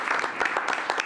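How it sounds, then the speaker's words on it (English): Applause from the audience at a city commission meeting, steady and moderately loud clapping that fills the whole short stretch with faint voices mixed in. "How about a round of applause for our risk management?"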